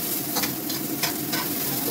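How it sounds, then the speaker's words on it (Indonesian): Ginger and garlic sautéing in a hot pan, a steady close sizzle with a few brief stirring scrapes, no voices. "Kita tumis sampai dia harum"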